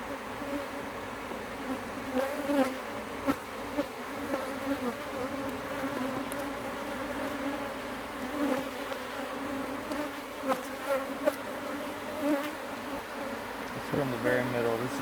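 Honey bees buzzing around an open hive during a frame inspection, a dense, wavering drone close by with individual bees flaring louder as they pass, and a faint murmur of voices now and then.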